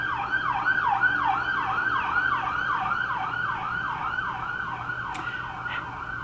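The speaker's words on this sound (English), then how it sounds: "Oops, sirens." A wailing siren cycles up and down steadily, fairly close and loud over distant traffic noise.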